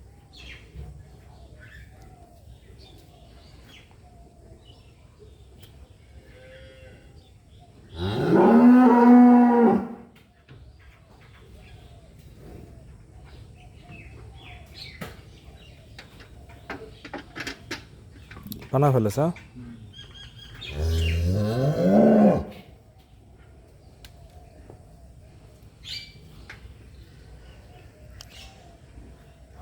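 Dairy cows moo loudly three times, long drawn-out calls close by, with quiet farmyard sound and a brief stretch of talk between them.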